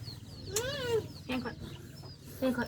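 Chickens cluck and squawk close by, a few rising, drawn-out calls and short clucks spaced irregularly, with no talk over them.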